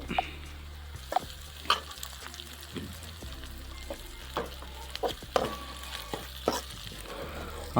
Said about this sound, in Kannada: ಒಂದು ಸ್ವಲ್ಪ ಕರಿಬೇವು ಕೂಡ ಈ ಥರ ಫ್ರೈ ಆಗುತ್ತೆ ಇವಾಗ ಮೆಣಸಿನ್ಕಾಯಿ ಕೂಡ ಹಾಕಿದರು